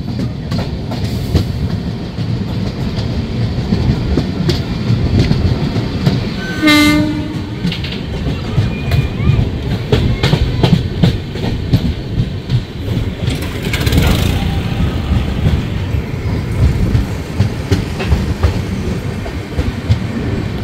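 Rupasi Bangla Express rolling along the track, a steady loud rumble with clattering wheels, a short horn blast midway and continuous rail noise throughout, no speech.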